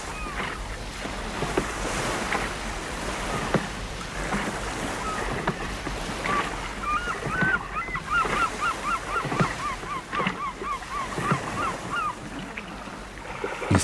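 A boat is rowed through calm tropical lagoon water after crossing a reef, giving a steady wash of sloshing water and paddling close by, with a run of bird honks and calls rising over it midway.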